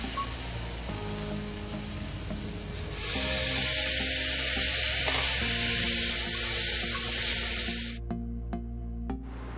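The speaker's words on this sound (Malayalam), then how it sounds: "ഇനി ഇതിൻ്റെ പച്ചമണം മാറുന്നത് വരെ നന്നായിട്ട് വഴറ്റി കൊടുക്കുക" Onions and ginger-fenugreek paste sautéing in a pan for Kerala-style beef curry, a steady close sizzle that surges loudly after a few seconds, then drops back to a softer fry near the end, with no talking.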